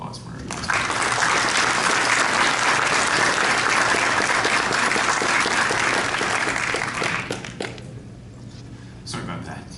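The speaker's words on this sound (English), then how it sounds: "So how about a round of applause for Eric?" Audience applause at a conference session on federal, provincial and municipal legislation, a dense steady roomful of clapping lasting about seven seconds before thinning out, with a few scattered claps near the end.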